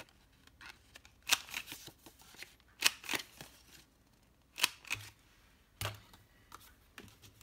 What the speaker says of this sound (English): for the inside of the flap, I'm going to punch all 4 corners